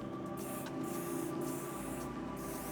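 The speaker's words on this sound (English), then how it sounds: "I'm just going to finish by spraying and again, just sort of pulling some pieces out." Hair spray hisses from a can onto styled hair in short bursts, four quick close sprays over a low steady hum, with no talking.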